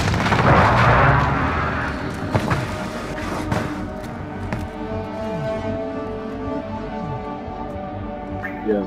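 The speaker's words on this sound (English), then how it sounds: "Be advised, friendly precision airstrike inbound." Precision airstrike explosions in the Call of Duty video game, a heavy opening blast followed by rumbling booms and scattered shots, loud and continuous throughout.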